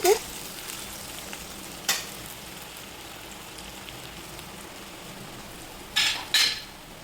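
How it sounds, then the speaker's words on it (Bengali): Onions and green chillies sizzle in a frying pan. A steady, soft crackling hiss runs throughout, broken by a few sharp clatters of stirring near the start and end. "পেঁয়াজ লঙ্কাগুলো ভাজা হয়ে গিয়েছে"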